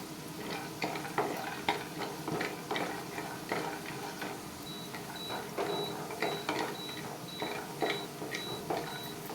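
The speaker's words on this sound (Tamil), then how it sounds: "பாதாம் ஒரு ஏழு எட்டு அது எல்லாத்தையும் நம்ம போட்டு கொஞ்சம் பொன்னிறமாக வறுத்து எடுத்துக்கலாம்" Cashews and almonds roasting in a pan for white poha payasam, giving a steady dry sizzle with repeated scraping and stirring clicks, close and continuous throughout.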